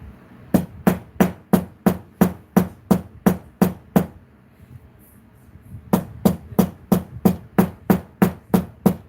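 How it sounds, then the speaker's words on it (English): A 13-ounce hammer with a nylon face strikes repeatedly in a steady, even rhythm, about a dozen sharp loud knocks, a brief pause, then another run of blows, close and alone. "Okay, so 13-ounce hammer. I'm going to whack it first with the nylon side."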